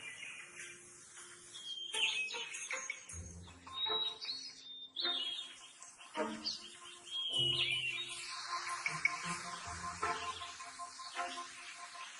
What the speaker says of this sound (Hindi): पक्षियों की एक स्पीशीज है जिसने उड़ान को कला कौशल के लेवल्स तक पहुंचा दिया, और वो है हमिंगबर्ड यानी मरमर पक्षी।